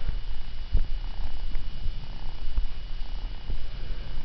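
A cat purrs steadily and close up in a continuous low rumble, with soft thumps now and then and no talking during the sound.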